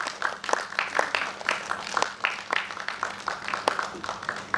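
Audience applause at the inauguration of a drama performance, scattered uneven clapping from a modest crowd in a hall, rising and falling in short bursts without a steady rhythm.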